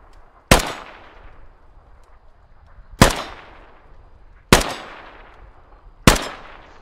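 Rifle fire at a firing range in the Squad video game: four loud, sharp single shots spaced a couple of seconds apart, each with a short ringing decay, with no talk between them.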